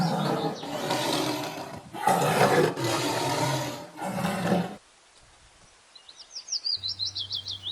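A tiger roars in four long, loud, rasping bursts close by, followed by a short pause and then a bird chirping rapidly.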